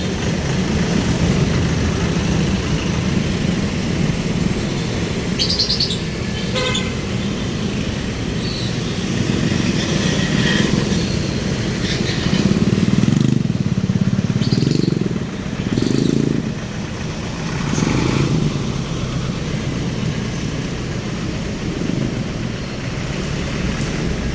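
Busy road traffic in a congested Philippine street with buses, motorcycles and car engines, a steady close rumble of idling and passing motors with a few louder swells as vehicles pull by.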